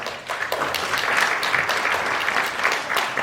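Audience at a magic and hypnosis show applauding a volunteer called to the stage, dense, even clapping from a full room that holds steady for a few seconds.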